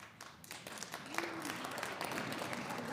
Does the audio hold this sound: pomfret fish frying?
no